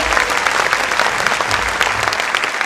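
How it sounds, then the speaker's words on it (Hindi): Loud, dense applause from parents in the audience at a school annual function with a ramp walk, steady crackling claps filling the whole stretch without a break. "मेरा सभी पालकगण से अनुरोध है कि जोरदार तालियों से हमारी बच्चियों का उत्साह बढ़ाइए।"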